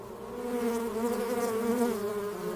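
Bees hum in a dense, steady drone at a hive entrance where guard bees watch for threats, the buzzing close and continuous with slight wavering pitch throughout.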